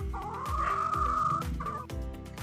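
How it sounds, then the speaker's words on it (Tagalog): Boston pullets on a game farm cluck and squawk, with repeated nasal calls and one drawn-out cry rising over a quick, rhythmic clucking that is loud and near. No one speaks. "Itong Boston na pullet ay iiwanan muna dito."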